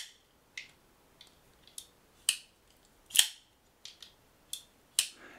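Shirogorov 110 folding knife opened and closed repeatedly, a series of crisp metallic clicks and snaps spaced irregularly, close up and sharp against near silence.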